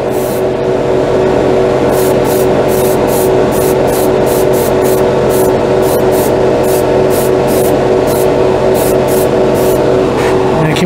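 Airbrush spraying OdenKan lacquer paint, a loud continuous hiss that runs steadily throughout, broken by quick regular bursts of higher hiss.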